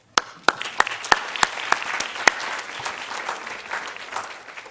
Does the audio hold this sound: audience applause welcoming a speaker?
yes